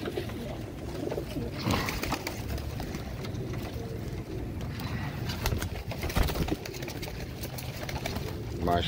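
Royal Teddy breeder pigeons coo in a loft, soft repeated throaty calls close by, with someone speaking over them at intervals.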